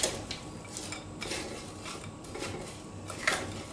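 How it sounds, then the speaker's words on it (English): A utensil scrapes and clinks against a bowl while sugar is stirred into berries for a pie filling, a continuous close scraping with light taps and no talking. "So I'm going to mix the sugar up with it now."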